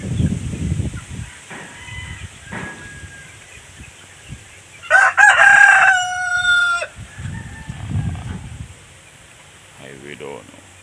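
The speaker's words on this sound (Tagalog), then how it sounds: "Nandun mga manok sa pispano." Chickens cluck and a rooster crows loudly on a farm, the crow ringing out clearly in the middle while someone speaks before and after.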